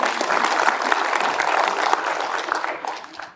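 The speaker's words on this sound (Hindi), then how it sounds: "ताली बजा दो यार." An audience in a hall applauds at the opening of the 20th session of a medical education event. Dense, loud clapping holds steady and then trails off near the end.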